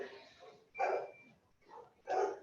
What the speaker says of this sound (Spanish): están los perros acá afuera.